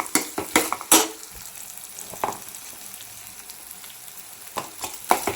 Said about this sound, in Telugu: ఇందులోకి కొద్దిగా అల్లం వెల్లుల్లి పేస్ట్ వేసుకోవాలి. బాగా కలుపుకోవాలి.